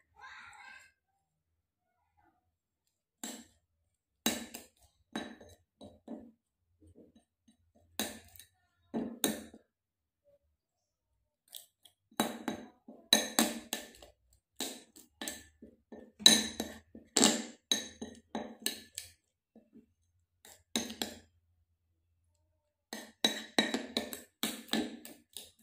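Spoon clinking and scraping against a bowl while lemon mixture is stirred, in irregular close bursts of light metallic taps separated by quiet gaps.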